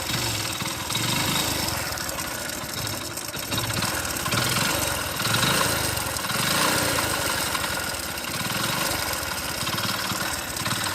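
A worn motorcycle engine runs rough just before failing, close by. It gives a steady, uneven chugging idle with rhythmic pulsing knocks and slight rises in revs, and no voices over it.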